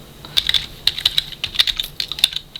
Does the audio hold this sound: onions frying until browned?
no